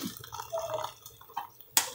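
Hot water poured for Maggi noodles, a faint uneven trickle and splash with a few drips and a sharp clink near the end.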